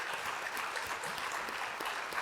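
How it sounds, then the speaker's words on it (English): Audience applause at a county teacher recognition celebration honoring STEM teachers, a steady, dense wash of clapping that holds at even loudness throughout with no voices over it. "Please join me in another round of applause"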